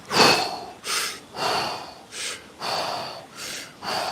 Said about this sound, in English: let's take big breaths on the way down